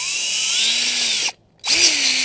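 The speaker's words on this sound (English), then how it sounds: "we're gonna take our auger with our Proven Winners Twist and Plant drill bit" A power drill fitted with a Proven Winners Twist and Plant auger bit bores into soil that has been worked several times, whirring loudly and steadily, cutting out briefly, then spinning up again.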